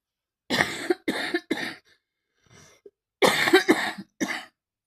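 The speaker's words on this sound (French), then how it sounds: "Oui, ça tousse encore." Several harsh coughs in two bursts separated by a short pause, close and loud, with a faint throat sound between them.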